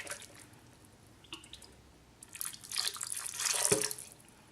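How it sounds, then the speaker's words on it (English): Water is poured into a blender while making vegan ranch dressing, a faint trickle and splash that builds to a louder gush near the end, heard alone without talk. "we're just going to put a little bit more water"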